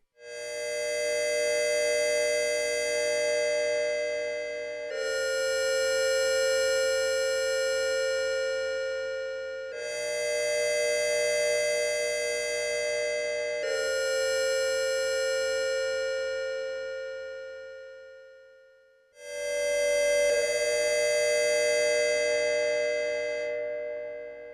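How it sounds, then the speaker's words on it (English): Moog Matriarch synthesizer playing a glassy triangle-wave FM tone pitched up an octave, a bright sustained note repeated about five times with short gaps, loud and close with no talking. "Let's put it back to triangle wave and put everything up the octave and adjust the envelope here and try to get a more glassy tone."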